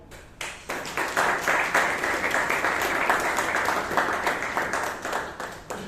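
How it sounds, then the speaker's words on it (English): An audience at a Toastmasters club meeting in Bangalore applauds, a steady wash of many hands clapping that holds at an even level for several seconds, fairly close in a meeting room. "A round of applause for all of them"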